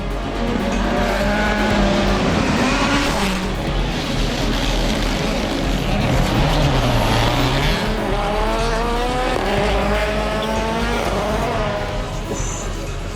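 An M-Sport rally car at speed, its engine revving hard and rising and falling through the gears, with brief tyre squeal. It is loud and continuous under overlapping commentary voices.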